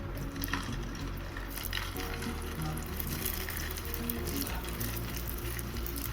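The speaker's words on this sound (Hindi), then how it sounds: "तो चलिए अब दूसरे राउंड का भी डाल देते हैं फ्राई होने के लिए।" A second batch of tikki frying in a hot pan gives a continuous, close, crackling sizzle with occasional spatter and stirring clinks, and no talking.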